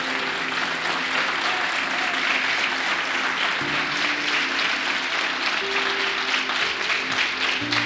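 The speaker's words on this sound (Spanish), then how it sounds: "Alguien que le dé un aplauso al Señor." A church congregation claps steadily for the Lord during a Spanish-language service, a continuous wash of applause with a faint sustained tone beneath.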